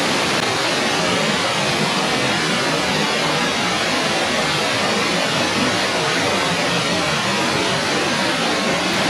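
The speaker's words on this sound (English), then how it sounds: "Bald River Falls." Bald River Falls roars steadily on a rainy day, a dense, continuous broadband rush of falling water that stays loud and close for the whole stretch, with no voices over it.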